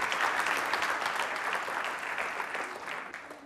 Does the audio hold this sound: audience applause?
yes